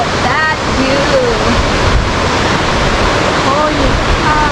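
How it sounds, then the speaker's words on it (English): Cinolum Waterfalls in Cagayan de Oro, Philippines, roars with a steady, loud, dense rush of falling water that fills the scene without pause, with faint bird chirps at a few moments. "currently I am here in Cinolum Waterfalls"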